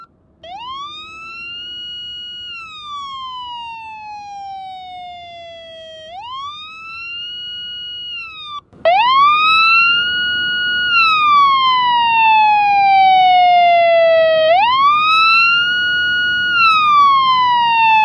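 A Lund P.A.S.S. police siren wails in loud, clean rising-and-falling sweeps, a slow wail cycle repeating and jumping louder partway through, alone with no talk.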